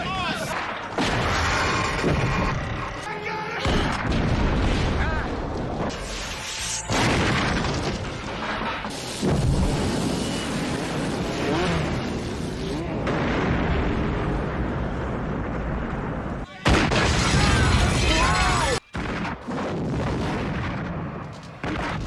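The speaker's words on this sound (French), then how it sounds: "beaucoup d'explosions" Explosions, blasts and heavy destruction from the Robocop film, a dense run of loud booming detonations and rumbling debris with brief gaps between bursts.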